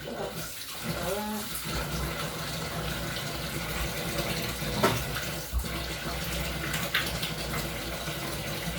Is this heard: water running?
yes